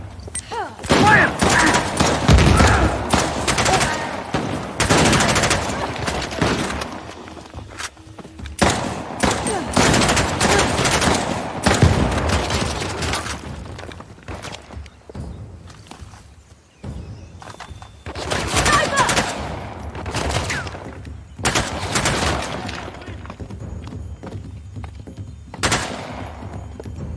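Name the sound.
gunfire from Lara Croft Xbox video game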